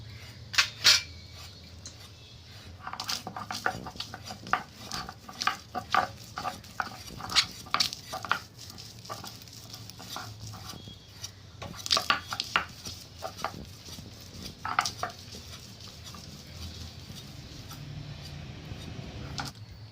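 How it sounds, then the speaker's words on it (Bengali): Poppy seeds and raw peanuts are ground by hand on a grinding stone, giving repeated irregular scraping and knocking strokes in bursts, close and quiet, with no talk. "পোস্তটা একটা বাটা দিয়ে নিয়েছি এবার এর মধ্যেই বাদামটা মিশিয়ে নিয়ে বেটে নেবো"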